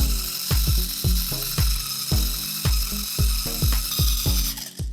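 Stand mixer creaming butter and light brown sugar, a loud whirring motor with rapid repeated rhythmic clunks and rattles as the beater churns the thick mixture, no voices.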